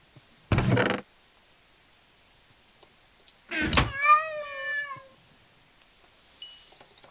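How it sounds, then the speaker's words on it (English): A Minecraft cat gives a single clear meow partway through, preceded by a short burst of other game noise and followed by a faint sound near the end; otherwise quiet. "That cat's still getting hurt, though."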